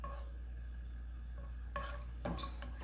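Garlic butter cream sauce with parsley simmering toward a boil in a pan for salmon, a soft steady sizzle and bubbling with a couple of brief spoon stirs near the end, no voices.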